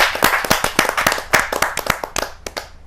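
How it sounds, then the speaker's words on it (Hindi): A Hindi poetry gathering (kavi sammelan) welcomes a young religious speaker with close, rhythmic clapping, distinct sharp hand claps in a fairly steady beat that gradually thin out. "जोरदार तालियों के साथ"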